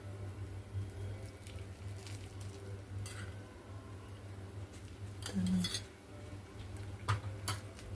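Semolina roasting in ghee in a pan on a low flame, stirred with a spoon: quiet scraping and scattered light clicks of metal on the pan over a faint steady hum, close but soft, with no voices.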